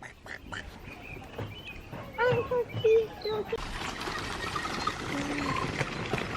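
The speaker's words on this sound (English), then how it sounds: "look at this duck swimming through it." A duck at a nature reserve pond gives a short run of loud nasal quacks close by, amid a trickle of water and background chatter.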